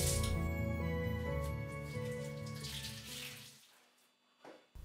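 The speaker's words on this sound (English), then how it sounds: "I gave the planks a good cleaning with soap and water to get rid of all the gunk." Water runs steadily from a tap as old wooden planks are scrubbed clean with soap, a close, continuous splashing wash that thins out and fades toward the end, with a couple of brief knocks at the close.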